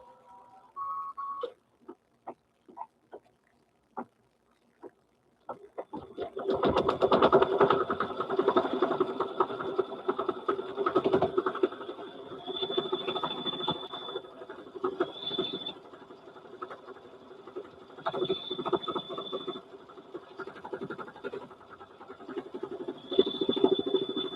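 Embroidery sewing machine stitching a quilt in the hoop, starting after a few scattered clicks into a steady rapid mechanical whirring chatter, close and fairly loud, with a recurring high whine.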